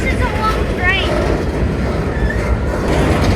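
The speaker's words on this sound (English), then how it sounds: "This is a long train." A long freight train rolls past up close, its dense rumble and rattling wagons steady and loud throughout, with brief high squeals of wheels and a voice heard over the noise.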